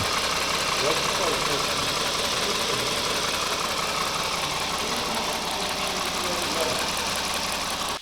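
A warmed-up 3.5-litre 2GR-FE V6 in a Toyota Highlander with about 170,000 on the odometer, idling in a steady, even drone that holds constant for eight seconds, recorded close with some background noise.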